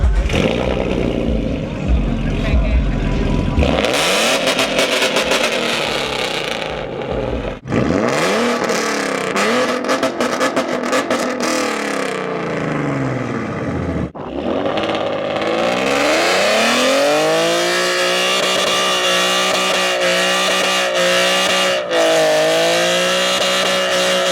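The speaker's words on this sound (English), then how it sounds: "I have this exhaust setup, ear piercing sound, check it out." A Ford Mustang with a 3.7L V6 and an aftermarket exhaust revs repeatedly, loud raspy sweeps rising and falling in several bursts with sharp drops between, up close and alone.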